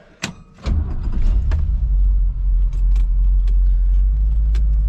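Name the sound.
truck loaded with corn driving off to town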